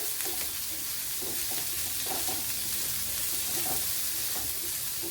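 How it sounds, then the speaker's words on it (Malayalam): Chopped vegetables for a Kerala thoran sautéed in a pan, a continuous even hiss of frying with faint soft stirring bumps underneath, moderately quiet and close, no voices. "ഇതിനെ ഒന്ന് വഴറ്റിയെടുക്കാം"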